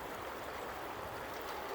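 A stream's fast-moving water flows with a steady, dense rush. The sound is continuous and even, with no talking and no distinct splashes.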